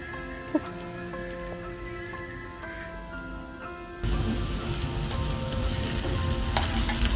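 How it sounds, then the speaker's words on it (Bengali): Cumin seeds and green chillies fry in a pan of oil and get stirred. Soft tonal music plays at first, then a loud, steady sizzle with stirring takes over for the remaining few seconds. "দিচ্ছি হাফ চামচ জিরা, দিয়ে ভালোভাবে নেড়ে চেড়ে নেব"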